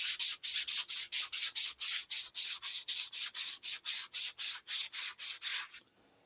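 Rapid back-and-forth hand sanding of a small carved morel mushroom, a close, even scratchy rubbing in about twenty quick strokes that stops abruptly near the end.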